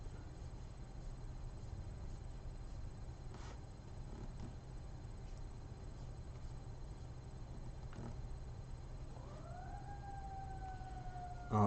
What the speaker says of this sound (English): So if you hear the fire engines in the background